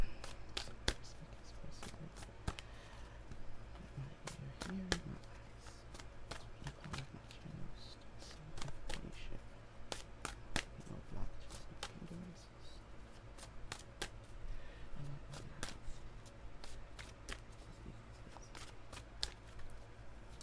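Tarot and affirmation cards are shuffled repeatedly in quick, crisp riffles and taps, fairly close, with a soft steady background hum throughout.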